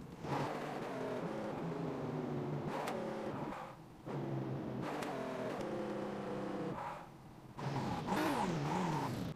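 A car in the Car Parking Multiplayer video game revs hard during a tire burnout, the engine note rising and falling in repeated surges separated by short drops, loud and close.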